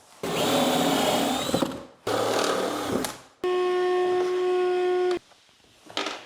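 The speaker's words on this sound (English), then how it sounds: "You can just drill it out from the inside." A power drill whines in three bursts while drilling out staples from inside a kitchen cabinet, the last a steady high-pitched spin before cutting off, with a short burst starting again at the end.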